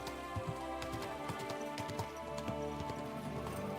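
A horse's hooves clop at a steady walking rhythm in Kingdom Come: Deliverance II, a run of evenly spaced, fairly quiet knocks over low ambient game sound.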